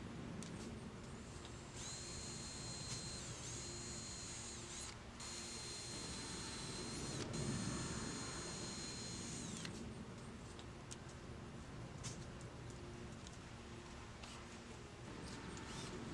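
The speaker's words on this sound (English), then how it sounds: "switch back to my drill bit, and we're going to go ahead and drill the rest of the holes" A power drill bores screw holes for mounting an indoor/outdoor clothesline, whirring in several bursts of a few seconds each with short pauses between, fairly faint and without talk.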